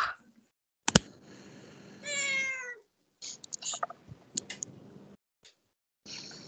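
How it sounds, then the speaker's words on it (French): A cat meows several times in a quiet indoor room, one drawn-out rising meow and several shorter chirps and calls, spaced irregularly and heard close by, with a sharp click early on. "Même le chat s'y met."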